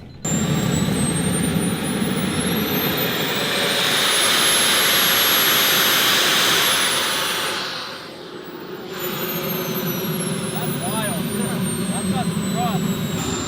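Giant turbine-powered RC jet aircraft capable of 300 mph at a club flying field, its jet engine roaring loud and steady, swelling to a peak then dipping briefly before resuming; people talk faintly underneath.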